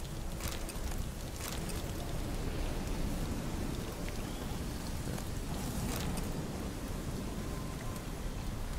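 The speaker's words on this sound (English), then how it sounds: "Looks like rain." Steady, loud rain in The Witcher 3 pours down as a dense, continuous hiss over a low rumble, with a few brief crackling spikes like distant thunder or drops hitting surfaces.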